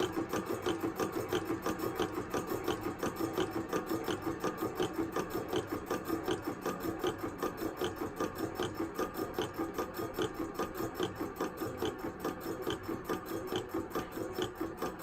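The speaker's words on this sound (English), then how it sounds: "Most of the installations where we have these compressors, this is about how they run." A Crossfire instrument air compressor runs steadily nearby, a continuous mechanical drone with a fast, even pulsing rhythm throughout and no speech.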